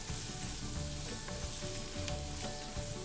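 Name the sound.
ginger garlic paste sautéing in a pan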